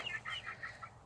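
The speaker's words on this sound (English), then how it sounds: "we have all these little rooster dudes" Several small bantam roosters cluck in a short run of quick, bright calls, close and moderately loud outdoors on a homestead, with no talking.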